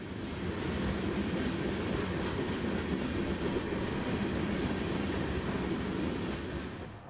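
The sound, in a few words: CSX 1871 freight train (Tropicana juice train) on the rails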